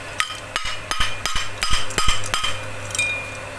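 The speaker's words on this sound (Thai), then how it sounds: "เสร็จแล้วเราก็เอาค้อนครับ จับใส่รูครับตอกเลย" Sharp metallic hammer strikes ring out about seven times in an irregular rhythm, close by, driving a part into a Sanyo electric fan under repair, over a low steady hum.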